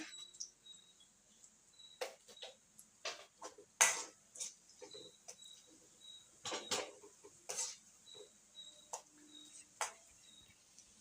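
Small mustard seeds pop and splutter in hot oil, with irregular sharp cracks scattered over a faint background hiss.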